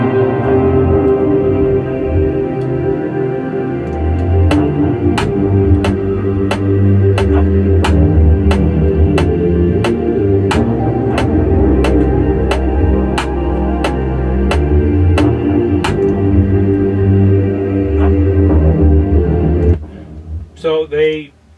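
A hip-hop beat blends a sample with a dark bass loop, carrying deep subwoofer rumble under a steady run of crisp ticks. It plays loud and continuous for about twenty seconds, then cuts off abruptly.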